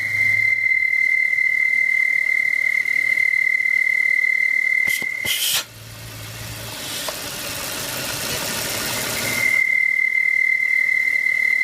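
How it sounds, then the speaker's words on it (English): A sharp, steady high-pitched whistle from a faulty, partly blocked PCV valve rides over an idling car engine, breaks off briefly with a rush of broadband hiss, then returns just as steady. "The first sign, a whistling or hissing sound from the engine."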